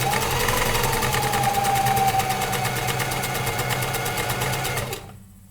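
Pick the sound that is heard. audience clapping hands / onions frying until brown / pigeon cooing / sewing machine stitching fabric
sewing machine stitching fabric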